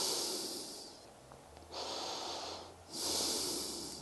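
Breathing comes in slow, heavy exhales during a held lunge stretch in a joint mobility warm-up: three close, breathy gusts, each followed by a quieter pause, with no talk.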